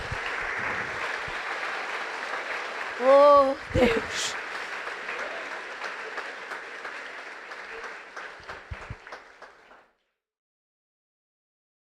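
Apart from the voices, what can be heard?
church congregation applauding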